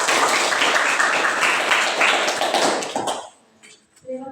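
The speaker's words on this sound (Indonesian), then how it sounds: "Sekarang kita berikan aplaus dulu untuk kelompok 2" A classroom group gives applause after a student presentation, with dense, loud clapping from many hands for about three seconds, then it stops abruptly and a brief voice is heard.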